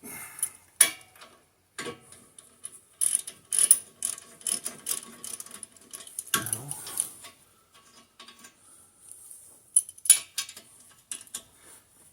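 A ratchet tightens brake parts on a 2018 Toyota Highlander XLE AWD during a brake service, giving sparse, irregular bursts of mechanical clicking with quiet gaps between them.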